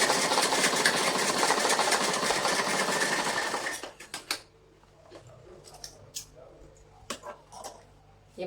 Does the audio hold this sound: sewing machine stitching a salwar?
yes